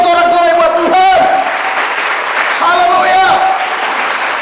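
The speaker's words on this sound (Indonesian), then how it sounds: "Berikan sorak-sorai buat Tuhan." A church congregation at a revival meeting claps and cheers loudly for God, a dense roar of applause filling the space while a preacher's amplified voice shouts over it.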